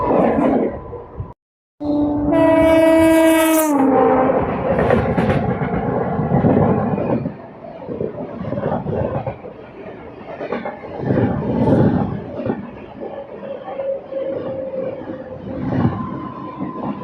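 A Kalka-Howrah Netaji Express passenger train rolls past at a station, a loud steady roar of wheels and carriages with a brief horn blast near the start, continuing for the whole stretch without talk.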